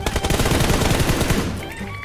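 Dense automatic gunfire in the shooter game PUBG Mobile, a loud rapid burst of close shots that fades slightly toward the end.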